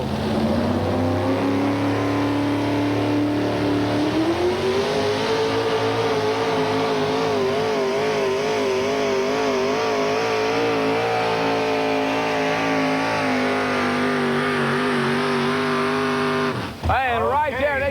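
A Ford pulling truck called the Barnyard Bandit, driven at a 4WD truck pull in Bowling Green, Kentucky, roars at high revs steadily for nearly the whole run, the pitch climbing and then holding before it cuts off abruptly near the end.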